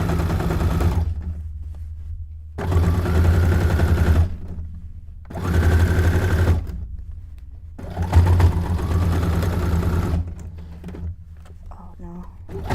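A sewing machine stitches a miniature townscape cone-shaped cape in loud, close bursts of rapid mechanical whirring, run in four separate stretches with short pauses between them and faint handling noises in the gaps.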